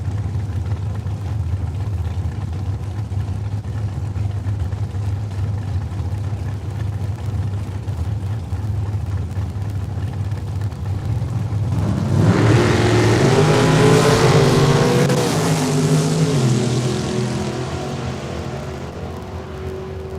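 Drag racing car at Saskatchewan International Raceway in Saskatoon, heard first as a steady distant rumble, then a loud roaring launch and pass around the midpoint that fades back into a continuing drone.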